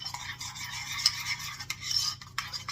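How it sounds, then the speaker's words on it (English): Meat loaf ingredients get stirred in a bowl, a continuous close scraping and squelching with soft clinks of a utensil against the dish and no talking. "I'm just going to give it a mix up."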